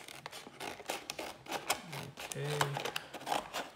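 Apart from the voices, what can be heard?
scissors cutting into calculator packaging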